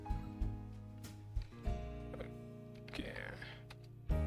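Keys on a computer keyboard are tapped in a few scattered bursts, close and fairly faint, over a steady background hum.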